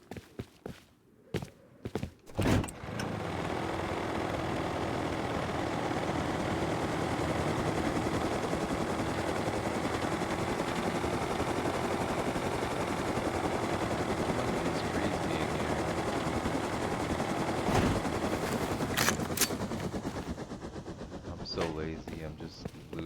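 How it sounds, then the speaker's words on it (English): A video-game helicopter flies overhead as a continuous droning rumble that holds steady for most of twenty seconds, framed by a few sharp bangs at the start and again near the end. "Oh, I hear a patrol heli."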